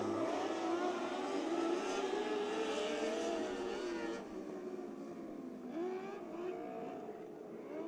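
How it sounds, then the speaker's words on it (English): Race cars in a B-main at a dirt oval track night race roar down the back straightaway, engines whining loudly, easing briefly, then surging again as the cars pass. "Darren Nida going down the back straightaway for the final time here."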